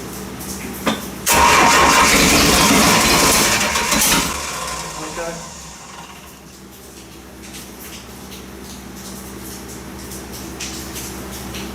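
A 3.0 Mercruiser engine in a Bayliner Bowrider 175 boat cranks and fires up loudly, roaring for a few seconds before settling back to a quieter running idle.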